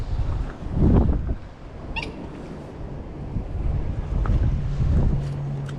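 Strong wind on a canal bank in winter buffets the microphone in low rumbling gusts, loudest near the start and again later, with faint rustling and no speech.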